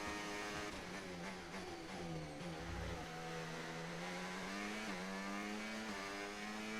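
An F1 race car engine in the video game F1 25 screams at high revs, pitch rising and dipping through gear changes and corners, loud and continuous with no talking.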